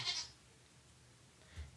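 Goats kept as spoiled pets bleat briefly, one short bleat at the start and another faint one near the end, with quiet between and no talk.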